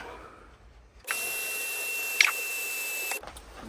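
A small electric drill with a dull bit whirs steadily for about two seconds with a high whine, close by, then stops; a brief click sounds midway.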